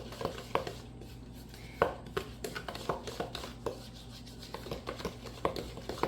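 Zucchini bread batter being mixed in a bowl to break up clumps, with a steady run of close scraping and tapping strokes from the utensil against the bowl, some sharper knocks standing out, and no talk.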